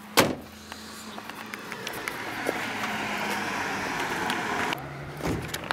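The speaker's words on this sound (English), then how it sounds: "There's a car coming." A car approaches and rolls past on a hillside road at Daman-e-Koh in Islamabad, its engine and tire noise swelling into a steady rush for several seconds before falling away, with no talking.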